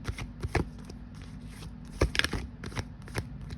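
Tarot cards being shuffled by hand make soft, papery riffles and quick slaps in irregular bursts, close and fairly quiet, with no voices.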